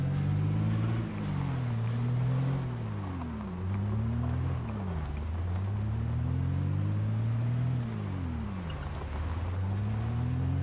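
A vehicle engine driving in the zombie survival game Project Zomboid, a steady loud drone that rises and falls in pitch as it revs and shifts, continuous throughout with no talk.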